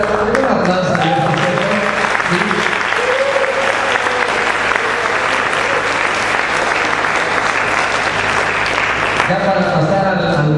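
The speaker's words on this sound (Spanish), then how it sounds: "un aplauso a Dios" A church congregation applauds steadily for about ten seconds, dense and loud, with a voice and a sustained musical tone running beneath, tapering near the end.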